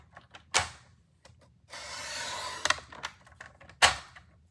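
Scissors cutting folded paper for a coffee cup gift card holder, a short run of close crisp snips and a sustained slicing swish, with light handling clicks around it.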